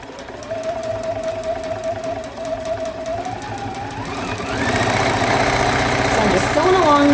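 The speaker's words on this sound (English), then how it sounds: "Sewing along there." A sewing machine stitches a selvage string block seam, a close mechanical whirr that speeds up into a louder, faster run partway through, with a voice talking over it.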